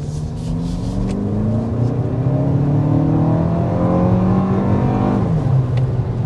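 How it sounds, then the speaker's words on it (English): A 2024 Toyota Crown Platinum hybrid pulls hard and climbs steadily in pitch, a loud continuous acceleration heard from inside the car, easing slightly near the end. "start with a hard acceleration and show you what this hybrid max system is"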